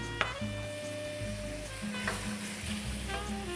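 Flour is stirred into a sizzling pan, a steady low crackle of frying with soft scraping stirs and a couple of faint clicks over it.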